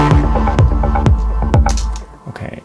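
Pulsing electronic synth music with a thumping bass beat and bright lead tones, thinning out near the end as the texture shifts.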